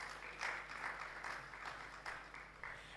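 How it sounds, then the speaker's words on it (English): An audience at an anniversary symposium claps for online panelists, a steady moderate wash of applause with a few louder swells across three seconds, heard at a slight distance. "If you can just give them a round of applause for joining us."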